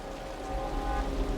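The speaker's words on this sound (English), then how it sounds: "The rain's getting heavier." Steady, even rain pours down in Wuthering Waves, a dense wash of falling drops spattering on surfaces that swells a little louder toward the end, with no voices present.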